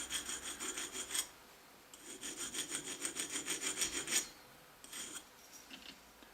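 An HSS boring bar's top surface is lightly honed with a sharpening stone, producing close rhythmic rasping strokes in short runs with brief pauses between them, quiet and near.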